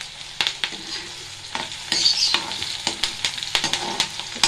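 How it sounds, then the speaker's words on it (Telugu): Onion and curry leaves frying in a pan for a pepper masala chicken curry, a steady close sizzle broken by repeated clanking stirs of a spoon against the pan. "ఉల్లిపాయ మాత్రం కొంచెం వేగనియండి."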